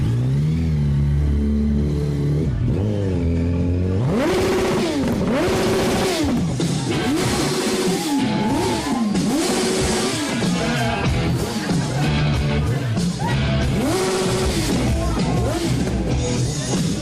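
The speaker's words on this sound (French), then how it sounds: "C'est magnifique, arriver en moto." Motorcycle arriving at a DJ event, engine idling then revving repeatedly in sharp rising-and-falling bursts, loud and close, with clattery mechanical noise between revs.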